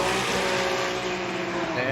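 Nissan all-new Z drift car on GT Radial tires roars at high revs in competition, engine tone steady and loud through the whole stretch with a hint of tire noise and a crowd-like wash behind.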